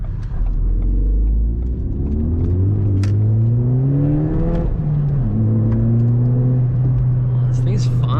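A turbocharged Ford Fiesta hot hatch revs hard while driving, its engine note climbing steadily through two pulls with a brief dip between them. The rumble stays close and loud, and a voice can be heard faintly underneath.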